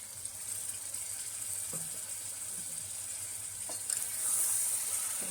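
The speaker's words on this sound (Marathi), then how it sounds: "परत एक वेळ त्यात पाणी घालून घेऊ आपण" Water poured into sizzling mutton gravy in a pan for village-style black mutton, a continuous frying hiss with a brief splash and a swelling sizzle near the end.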